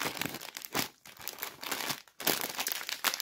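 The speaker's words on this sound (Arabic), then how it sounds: "هنفتح ونقول بسم الله الرحمن الرحيم." Close, loud crinkling and tearing of a Lulu cheese-flavoured chips snack bag as it is pulled open, the plastic rustling in several bursts with brief pauses, no talk.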